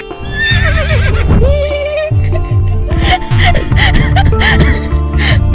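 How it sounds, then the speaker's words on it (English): Horses in the medieval video game Medieval Jump whinny and neigh in alarm near a stable, several loud calls in quick succession over a busy, continuous game soundscape. "The horses neighed in alarm by my loud ruckus"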